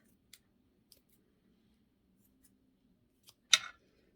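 Scissors snip craft material while making a Christmas gnome, a few faint clicks followed by one sharp, close cut, with quiet room hum between.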